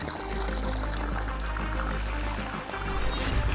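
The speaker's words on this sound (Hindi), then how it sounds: "ये पाइपलाइन फूट गई थी" Water gushes and pours steadily from a burst pipeline, a loud, continuous rushing stream with a low rumble that briefly dips before surging again.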